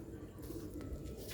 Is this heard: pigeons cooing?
yes